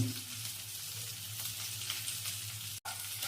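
Tempering for lemon rice crackles in hot oil as curry leaves, turmeric and salt go in, a steady close sizzle with a brief cut near the end.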